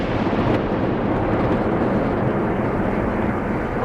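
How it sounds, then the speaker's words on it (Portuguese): A deep, continuous rumble of distant explosions from a Russian air attack on Kyiv rolls on without a break, heavy and muffled like far-off blasts echoing across a city. "O que escutamos são as explosões do ataque aéreo que a Rússia levou a cabo contra Kiev"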